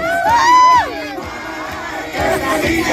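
A large protest crowd in the Philippines shouts loudly in unison, surging in bursts with chanting, rallying energy, calling for Marcos to step down.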